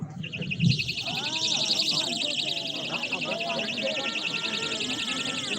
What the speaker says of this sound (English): Ladies, if you have an alarm, sound the alarm!